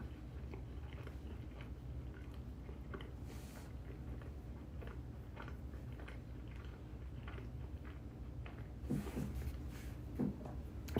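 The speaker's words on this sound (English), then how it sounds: "you gotta hear all these fucking chewing noises" Close, wet chewing and biting of food, probably a burrito, with soft crunchy bites repeating steadily throughout and two louder bites near the end, no talking.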